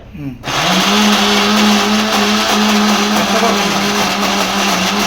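A small electric mixer grinder whirs steadily with a loud, constant motor hum as it grinds Rayalaseema-style peanut chutney with fried onions, tomatoes and tamarind. It starts abruptly and runs without a break.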